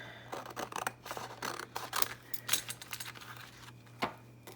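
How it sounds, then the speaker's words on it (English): Scissors cut through paper in a quiet room, giving a series of crisp snips and rustles in uneven bursts close by, followed by a few slower, separate cuts. "Cut this out, and I might have to cut it down."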